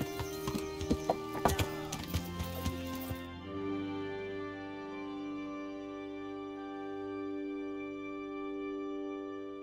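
A horse's hooves clip-clop in the video game Kingdom Come: Deliverance, a quick run of sharp taps for the first three seconds before fading into a sustained musical drone.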